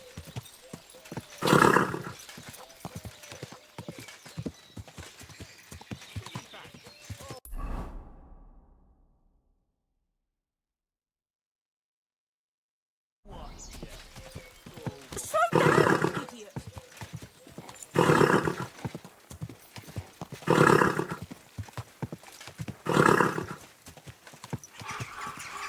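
Clip-clop of hooves with loud horse whinnies and snorts, someone talking over them, then a silent gap before more neighing and hoofbeats.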